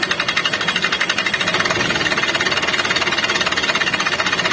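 A loud, rapid mechanical knocking rattle from a running tractor engine, steady and continuous throughout.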